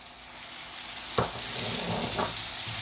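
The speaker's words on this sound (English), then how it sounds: "And now I'm adding my green peppers and the chopped onions to it." Green bell peppers and chopped onions drop into a hot pan for paneer capsicum bhurji, with a sudden burst of loud sizzling that swells into a steady close hiss, plus a brief scrape partway through.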